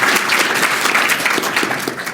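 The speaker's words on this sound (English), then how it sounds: "Can I have a round of applause?" A morning audience at a comics art competition judging panel breaks into loud, close, continuous applause, a thick wash of many hands clapping with no voices over it.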